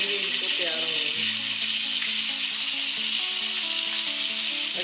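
Chicken leg pieces frying hard on high heat, a loud, steady, unbroken sizzle and crackle of hot oil filling the whole stretch, with faint tonal background sounds underneath.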